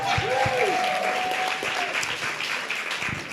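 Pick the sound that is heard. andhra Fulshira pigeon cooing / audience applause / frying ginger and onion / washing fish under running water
audience applause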